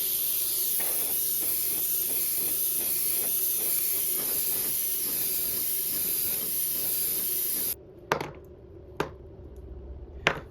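Close, steady hiss of silver spray paint misted lightly over a scaled rainbow trout swimbait lure for several seconds, then cutting off and leaving a few faint taps and knocks.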